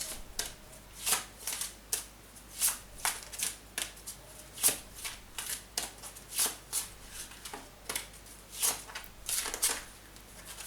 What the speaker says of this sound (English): Let's get the astrological card deck first. 2 cards, please.